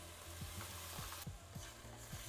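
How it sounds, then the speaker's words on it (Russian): A spoon scrapes and stirs through tomato sauce thickened with flour in a pan, regular scraping strokes repeating about every half second under a soft steady sizzle, close and fairly quiet. "Перемешиваю и добавлю специй"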